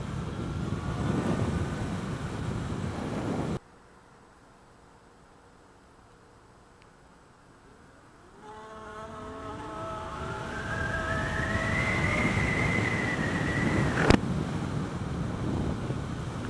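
A 2015 Zero SR electric motorcycle accelerates from a standstill to 60, its rising motor whine climbing steadily in pitch over wind and road roar after a brief quiet pause, loud and close, with no talking.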